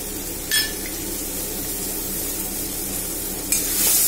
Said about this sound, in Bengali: আবার একটু নাড়াচাড়া করে নেব।